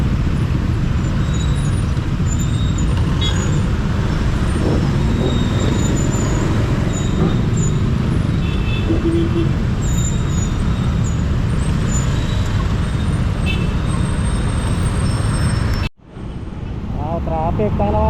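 Dense road traffic of buses and other vehicles in a jammed Philippine street, steady loud engine rumble and hiss throughout with brief brake sounds, ending in a sudden cut to quieter surroundings; voices talk over it.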